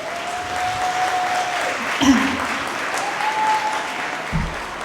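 Sustained audience applause fills a hall at a medical and dental annual gala, loud and even throughout, with brief voices and a few louder claps rising out of the crowd.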